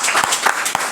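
Audience applause at a book presentation for the novel "La noche púrpura", a dense, steady patter of many hands clapping close by with a few sharper claps standing out, brief and sustained throughout.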